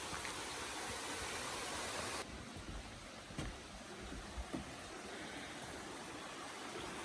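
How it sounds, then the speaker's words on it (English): A waterfall near Charlottesville gives a steady broadband rush that is louder for the first two seconds and then settles to a softer, even roar, with a couple of brief knocks. "And look at that, another waterfall."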